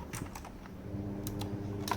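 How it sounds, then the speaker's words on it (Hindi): Keys clack on a Zebronics Zeb-Max V2 mechanical keyboard with blue switches, giving a short run of crisp, clicky strokes in small bursts, close and quiet over a faint hum. "इसमें ब्लू स्विचेज है फ्रेंड, और आवाज़ भी कुछ ऐसा है।"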